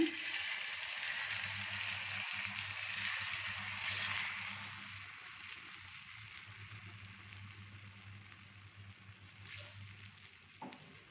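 Vadacige batter sizzles on a hot roti tava, a steady soft frying hiss with fine crackling that eases gradually, with a low hum underneath and a faint clink near the end.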